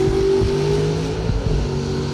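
Drag race cars launching side by side at a Christmas bash event, one of them a 1967 Camaro, with a loud, steady engine roar and droning harmonics that hold throughout, a brief surge partway through, and no talk over it.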